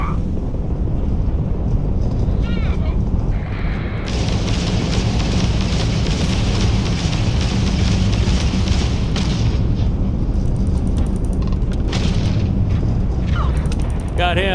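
Spaceship weapons firing in the video game Starfield, on a NASA space shuttle build: loud, continuous mechanical roaring and booming volleys with rattling bursts, steady and dense throughout, with brief chirping electronic effects layered on top.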